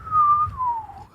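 A voice imitates the little nose whistle of a sleeping pet dragon, a single soft whistled tone about a second long that drifts gently downward before rising slightly at the end.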